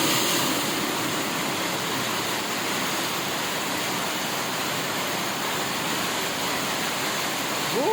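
Very heavy rain pouring down in a town barrio, a dense, loud, unbroken roar of water that fills the whole scene without letup.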